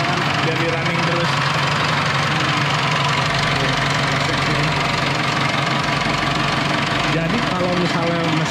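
Engine of a 4x4 car running during testing in a workshop, a loud steady idle with a rough knocking rumble that persists throughout, while people talk nearby.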